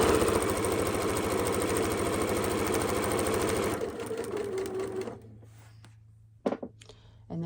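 Sewing machine stitching a log cabin quilt block seam at a quarter-inch allowance, a fast steady close whirring patter that slows and stops, followed by faint handling noises.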